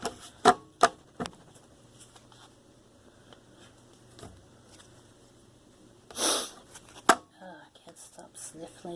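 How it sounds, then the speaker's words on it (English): A person sniffling through allergies, a few sharp nasal sniffs near and fairly quiet, with a louder burst near the middle and faint low hum beneath. "Stop sniffling."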